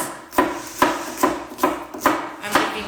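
A knife chops guacamole ingredients on a stone board in a home kitchen, six crisp, evenly spaced knocks about half a second apart, close and clear with no talk.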